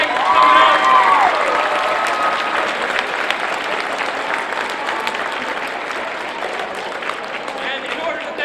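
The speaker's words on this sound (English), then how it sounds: "Give these guys a round of applause and thank you for coming out." A crowd at a motivational speaking event gives sustained applause with some cheering, and a brief whistle or whoop rises over the clapping at the start.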